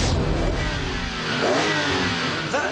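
BMW Z4 M roadster's 3.2-litre straight-six from the M3 CSL revving hard, a loud, sustained engine roar with rising pitch swells, close by and with no talk over it.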